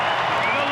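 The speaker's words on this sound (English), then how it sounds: "Crowd erupts" A big rugby stadium crowd roars as a try is given to the All Blacks against the Wallabies in Dunedin, a dense, sustained wall of cheering with no break across the short moment.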